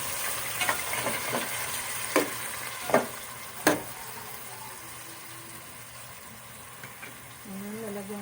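Chicken sotanghon glass noodles are stirred in a pan, with several sharp scraping strokes over a soft sizzle early on, then a quieter simmer and a faint whine near the end.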